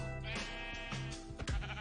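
A sheep in the Minecraft video game gives a couple of short, clear bleats, close and alone, the second sharper and louder near the end.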